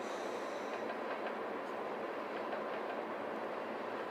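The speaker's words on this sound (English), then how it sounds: "A train going by right now." A passing train rumbles steadily with faint rhythmic clatter, heard at a distance outdoors at night as a continuous wash of noise with no talking.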